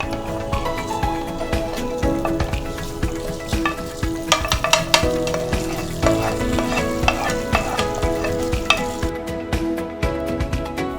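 Tempering for semiya daddojanam sizzles steadily in hot oil while a spoon stirs and scrapes the pan, a loud, continuous crackle with clinks throughout and no talking.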